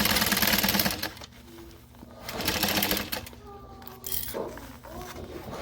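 Domestic sewing machine stitching a pocket on a garment, running in short bursts with pauses between, close and fairly loud, with some background voice.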